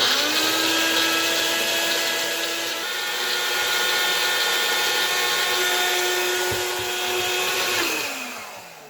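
A blender grinding dried onions into onion powder, a loud steady motor whine held for several seconds, dipping and shifting pitch near the end as it winds down, no talking.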